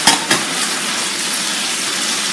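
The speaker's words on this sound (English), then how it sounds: "Just dump that squash in there. You hear it? It's sort of sizzling." Squash sizzles steadily in melted butter in a hot pan, a close, even hiss with a couple of sharp spits right after it goes in.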